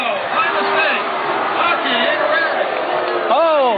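A crowd at the 1986 Op Pro surfing contest in Huntington Beach, California reacts with a steady murmur and scattered shouts to a judges' priority decision, under a commentator's continuous talk.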